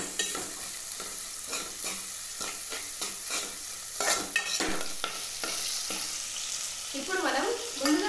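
Sliced okra fries in a hot pan for a curry, a steady sizzle broken by repeated spatula scrapes and taps against the metal, close and fairly loud, with no talking.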